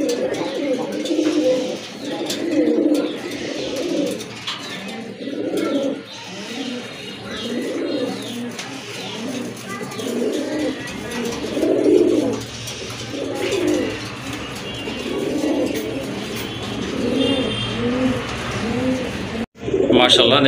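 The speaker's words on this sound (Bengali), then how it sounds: "মাশাআল্লাহ দেখেন চকোগ্রিজেল একটা মাদি কবুতর, বিগ সাইজের একটা মাদি" Domestic pigeons cooing in a loft of birds kept for sale, including a large chocolate grizzle hen, repeated throaty coos rolling close by throughout, with someone speaking over them.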